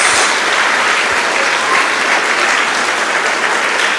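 Loud, sustained applause from a large crowd, steady clapping filling the whole stretch without pause.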